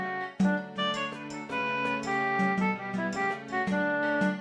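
Zelda video game town music for day one at about 110 BPM, a bright melodic loop with plucked, tinkling notes over a regular pulsing bass, steady and moderately loud, no talk.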